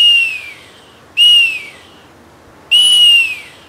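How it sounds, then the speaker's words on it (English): Three sharp, high whistle blasts from a whistle built into a walking stick, used to call a gun dog; each blast starts loud and tails off, with quiet outdoor air between. "So you see, the whistle works fine"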